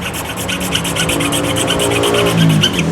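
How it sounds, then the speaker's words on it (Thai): A fine metal file rasping steadily back and forth while smoothing a round loop on an amulet frame, close and loud with even repeated strokes and no talking. "ทีนี้ก็ใช้ตะไบละเอียดนะครับ"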